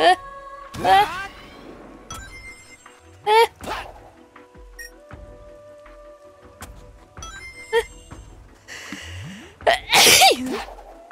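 One loud, close sneeze bursts out near the end of a game-playing session, over a background of sparse chimes, beeps and tones from a Sonic game, with a few short vocal sounds earlier.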